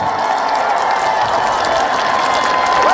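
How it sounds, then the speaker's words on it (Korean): Loud, sustained applause and cheering from a large crowd at a trot singer's outdoor performance at Heungryunsa temple. The clapping fills the whole stretch without pause, with no talk over it. "잘했다 생각하시면 큰 박수 한번 치겠어요"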